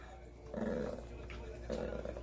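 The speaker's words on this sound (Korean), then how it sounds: "엄마한테 으르렁했어" A small Maltese dog gives two short growls a second apart, quiet and close, with a voice around them.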